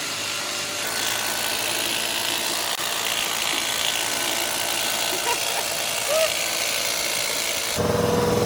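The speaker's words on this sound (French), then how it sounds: "Premier démarrage de compresseur." An air compressor in a newly finished garage workshop starts up for the first time, giving a loud, rough mechanical rattle and hum that runs steadily throughout, ending with a sharp shift in tone.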